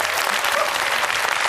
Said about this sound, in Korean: 박수님 멘토께 여러분 뜨거운 박수 부탁드리겠습니다.